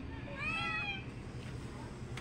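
Kittens meow at breakfast time, giving a couple of high, wavering cries in the first second that stand out clearly close by, with a person talking softly around them.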